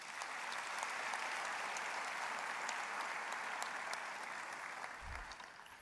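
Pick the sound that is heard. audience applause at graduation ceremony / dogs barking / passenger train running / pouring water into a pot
audience applause at graduation ceremony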